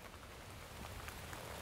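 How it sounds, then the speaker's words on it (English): Rain falls steadily in the woods, a soft, even hiss of drops on leaves and ground, faint and unbroken for the whole short stretch. "We are standing in the rain, getting wet."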